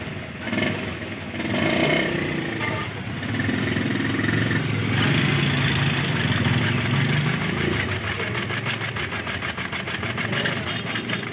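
A sewing machine stitches fabric during a bobbin case test after a fix for a bobbin case that kept popping out and breaking thread. It runs as a steady, close mechanical whir for most of the clip, with no talking.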